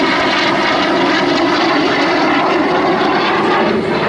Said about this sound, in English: line the aircraft up on the runway, pick his speed, raise the nose slightly, there it goes, and now there comes the aileron roll